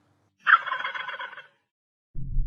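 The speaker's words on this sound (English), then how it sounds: "The Old Faithful box call from Flextone." A Flextone Old Faithful box turkey call gives a single raspy run of yelps lasting about a second, close and clear against silence. A short low thump follows near the end.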